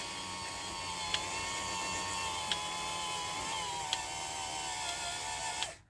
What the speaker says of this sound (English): Okay, full 36-inch extension, and now we'll do the full retraction.